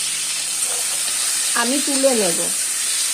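Tangra fish frying in hot oil in a pan, a steady bright sizzle running throughout with occasional stirring, close up, while someone speaks briefly over it.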